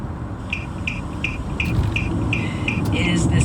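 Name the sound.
car hazard lights ticking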